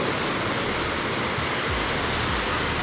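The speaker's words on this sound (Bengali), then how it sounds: "উপসে পড়া ঢেউ" Sea waves breaking on a beach make a loud, continuous roar of surf that fills the whole stretch without pause or voices.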